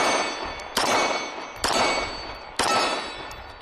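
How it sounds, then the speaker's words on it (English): Three sharp Walther PDP pistol shots are fired single-handed at a steady pace, each a loud crack followed by a fading ring. "Shoot a couple single-handed here."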